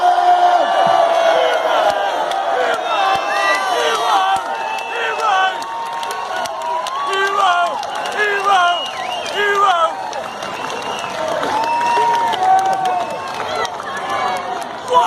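Crowd outside the Old Bailey courthouse in London cheering and shouting during a rally for Tommy Robinson; dense, continuous voices and yells fill the whole stretch, loud and close, with chants and individual calls rising above the mass.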